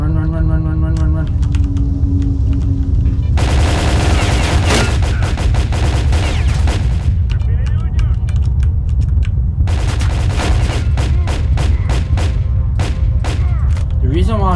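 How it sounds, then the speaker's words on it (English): Loud gunfire in the game S.T.A.L.K.E.R. Call of Pripyat, with dense bursts of rapid automatic shots in two long stretches and scattered single shots between them, mixed with keyboard clatter and game sound. "I'm going to shoot him"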